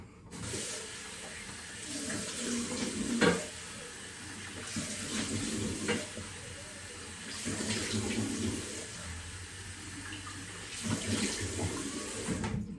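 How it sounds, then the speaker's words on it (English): Cold water splashing on a face after a shave, with running tap water and splashes repeating steadily for about thirteen seconds, close and moderately loud, no talking. "Right, so when you finish your shave, cold water splash."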